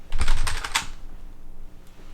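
A burst of rapid keystrokes on a computer keyboard, about eight quick close clicks clustered in the first second, then quiet room tone.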